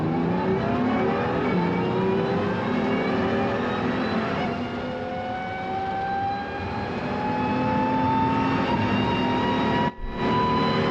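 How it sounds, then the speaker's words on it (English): A BMW M2 with a seven-speed dual-clutch gearbox revs hard in a modded Need for Speed Most Wanted race, the engine note climbing through gears, dipping briefly, then surging again before a sharp cut near the end. "this is a BMW M2, 7-speed dual clutch, no straight cut gears"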